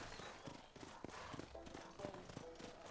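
Horse hooves clip-clop in the Western video game Red Dead Redemption, a steady walking rhythm heard under voices talking over the game sound.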